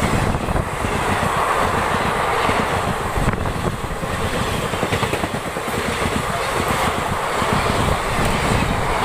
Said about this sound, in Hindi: मैं फ़िलहाल लोकल ट्रेन में खड़ा हूँ